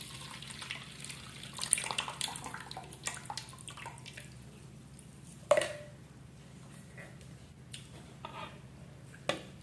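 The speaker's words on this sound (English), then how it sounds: "Strain out the water, the cinnamon water, or the juice." Cinnamon water is strained into a glass, producing soft trickling and splashing with a few wet squishes and sharper drips, close up and fairly quiet.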